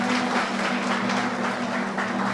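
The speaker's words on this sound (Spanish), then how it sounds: "Vamos a un aplauso a Grullón" Applause from an audience at a Christian family movement gathering, a dense continuous wash of many hands clapping together, loud and sustained with a low steady hum beneath.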